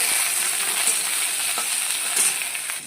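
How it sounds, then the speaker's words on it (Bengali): Okra fries in hot oil, a steady bright sizzle with faint spatters and light stirring sounds, heard alone and fairly close. "যে ভেন্ডিটা ভেজে নেবো আমি।"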